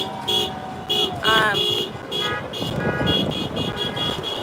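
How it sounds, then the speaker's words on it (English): Repeated car horn honks, short and long toots in a rhythmic pattern, with traffic noise and people talking nearby. "She's expressing it with a lot of honks"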